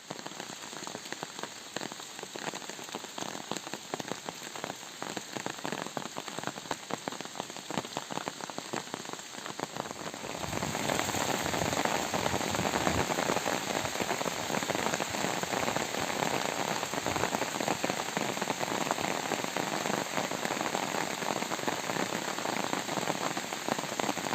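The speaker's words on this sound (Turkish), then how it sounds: "Yağmur hızlanmaya başladı." Rain pours down on a hammock camp in a lonely forest, a steady patter that suddenly grows into a dense, loud downpour about halfway through and stays heavy to the end, with no voices.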